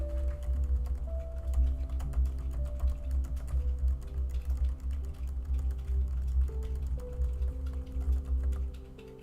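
Steady computer keyboard typing, the rapid key clicks running continuously and close under a low background hum while a to-do list app is used.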